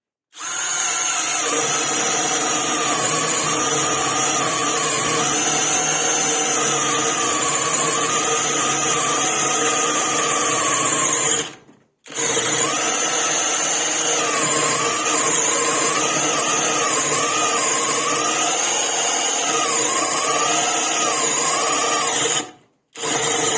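A Parkside PBSPA 12 C3 cordless drill runs in second gear on a fully charged battery, a loud steady whine held for about eleven seconds, a brief stop, then another long run and a final cutoff near the end.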